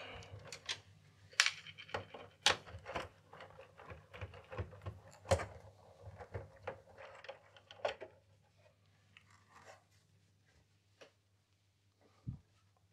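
The case of a Texas Instruments TI-99/4A home computer is opened with sharp plastic clicks, taps and scrapes in quick irregular succession, close up, thinning out toward the end.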